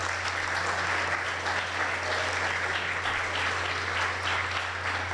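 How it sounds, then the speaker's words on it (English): Sustained applause from a conference audience at a research day session, dense and steady clapping filling the whole stretch at even loudness with no talking. "I would like to give him a special round of applause for that."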